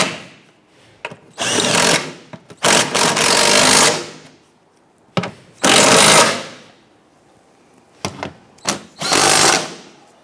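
A power tool runs in repeated bursts while tightening bolts on a 2011–2021 Jeep Grand Cherokee 3.6L V6 during O2 sensor work, with about six loud whirring pulses of one to two seconds each separated by short quiet gaps.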